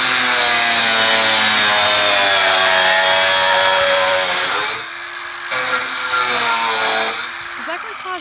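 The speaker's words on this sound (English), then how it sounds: "Let's grind this bad boy open." An angle grinder cuts into a metal box in a storage unit with a loud, sustained high-pitched whine, then briefly drops out and restarts twice near the end.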